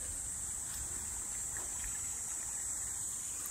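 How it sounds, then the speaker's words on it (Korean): A small stream trickles beside a barefoot walking trail in Cheonan, giving a steady, soft, even hiss of running water that stays faint and constant throughout, with no talking. "물소리가 쫄쫄."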